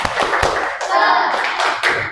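Group of children in a classroom doing a rhythmic spirit clap, sharp hand claps and thumps in a quick pattern mixed with chanted voices.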